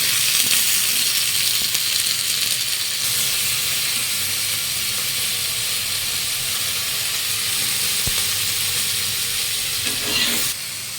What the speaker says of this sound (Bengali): পটল ভেজে নিচ্ছি।